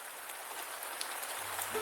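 Heavy rain pouring steadily, a dense even hiss of drops with no break, moderately loud and close.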